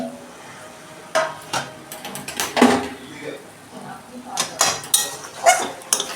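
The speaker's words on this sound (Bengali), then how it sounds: "দেখুন বন্ধুরা, ঢাকনা খুলছি।" A lid being lifted off a cooking pan of cabbage with lentils, with a few sharp metallic clanks and scrapes close by, spaced irregularly through the clip.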